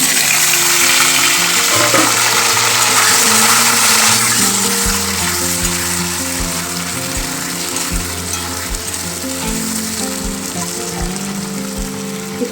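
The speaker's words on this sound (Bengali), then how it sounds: "এখন আমি কড়াইতে দিয়ে দেবো কচুরমুখীগুলি।" Taro corms (kochur mukhi) fry in hot oil in a kadai, giving a loud, close, continuous sizzle and crackle that holds steady for several seconds.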